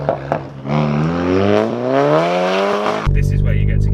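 A Golf R with a remapped stage 1 exhaust accelerates hard, its engine note rising steadily through the revs, loud and close, then cutting to a rough roar as it shifts.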